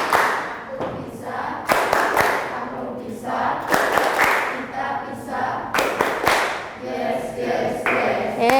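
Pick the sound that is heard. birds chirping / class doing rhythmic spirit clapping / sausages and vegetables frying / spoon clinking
class doing rhythmic spirit clapping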